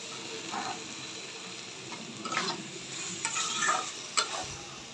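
Potatoes and eggplant sautéed together in a pan while cooking a light rohu fish curry, giving a soft continuous sizzle with a few louder stirring scrapes near the end.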